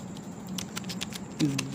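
Someone types on a computer keyboard, with scattered light key clicks and taps at an irregular pace, close and fairly quiet over a faint background hum.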